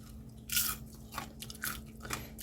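Crisp crunching bites into cooled, stir-fried chili pepper bugak chips seasoned with salt, sugar and sesame, several sharp crunches in quick succession, close and alone without talk.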